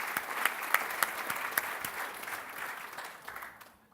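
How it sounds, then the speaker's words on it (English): Enthusiastic audience applause fills a keynote hall at a business symposium, dense clapping with a few sharper individual claps, sustained for several seconds before tapering off at the end. "I think we owe Justin and his message a round of applause"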